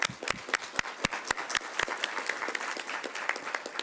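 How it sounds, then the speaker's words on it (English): Applause at a regular meeting of a mayor and city council, loud individual claps up close at the start that blend into softer, thinning clapping from the room. "another big round of applause to all of what was presented to the community"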